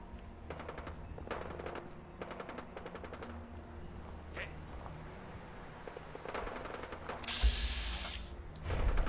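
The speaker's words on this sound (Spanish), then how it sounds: "Se escuchan los tiros aquí, detrás." Gunfire in the video game Fallout 4: repeated bursts of rapid shots, somewhat distant and moderately loud, separated by short pauses, with a brief louder mechanical rush near the end.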